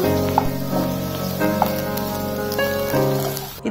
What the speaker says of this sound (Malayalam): ഇതിലോട്ട് നമുക്ക് വെണ്ടയ്ക്ക ചേർത്ത് കൊടുക്കാം എന്നിട്ട് തീ കുറച്ച് വെച്ച് ഒരു 5 മിനിറ്റ് നമുക്കൊന്ന് വറുത്തെടുക്കണം